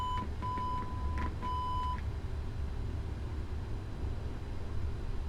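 A PMDG Boeing 777 powering up in the MSFS 2020 flight simulator gives a run of steady electronic beeps, several short tones and one longer one in the first two seconds, over a constant low hum that continues alone afterward.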